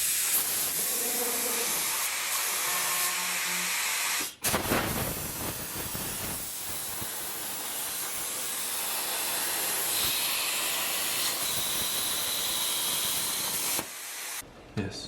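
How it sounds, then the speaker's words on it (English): Cutting a steel shock mount tab from plate in a race car shop: a loud, continuous roaring hiss that runs nearly the whole time, breaking off briefly once before resuming and stopping near the end. "I'm just about ready to cut out one of these shock mount tabs."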